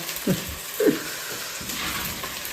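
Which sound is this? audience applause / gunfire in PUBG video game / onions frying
onions frying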